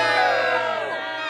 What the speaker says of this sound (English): I love how they all just boo her.